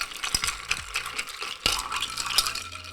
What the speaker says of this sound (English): So I'm just gonna give this a couple extra stirs here.